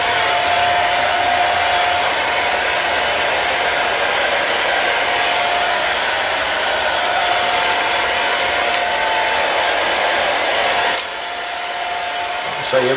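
Handheld hair dryer blowing on a man's hair, a loud continuous close-up rushing roar with a faint motor whine, briefly shifting in pitch and dropping in level near the end as it moves or changes setting.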